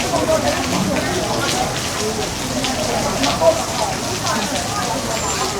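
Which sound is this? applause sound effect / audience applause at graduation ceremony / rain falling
rain falling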